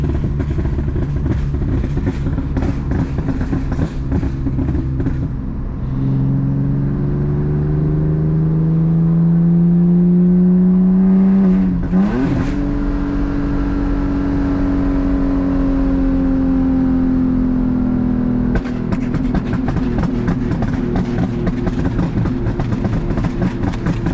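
A BMW E46 with a five-speed manual, driven through snow, revs and drones loudly with rising and falling engine tones throughout, shifting pitch between gears, with crackly popping bursts at the start and end.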